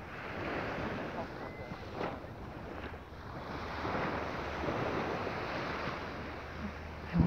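Ocean waves used as meditation background, a soft continuous wash of surf that swells and recedes gently at a distance, alone and fairly faint throughout.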